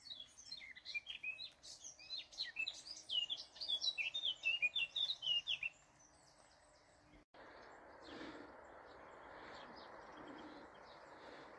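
Small birds sing and chirp busily along a mountain trail near the Pyrenees, with dense overlapping tweets for several seconds before the song fades to quiet outdoor ambience and distant faint calls.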